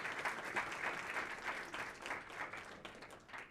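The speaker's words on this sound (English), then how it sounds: "Another round of applause." Sustained applause from an audience at an awards ceremony, a dense, even wash of many hands clapping at moderate volume with no talk over it.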